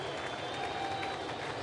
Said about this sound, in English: This crowd comes alive a bit.